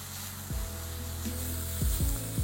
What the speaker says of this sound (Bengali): এই স্টেজে পেঁয়াজটাকে আপনাদের কিন্তু একদম লাল লাল করে ভেজে নিতে হবে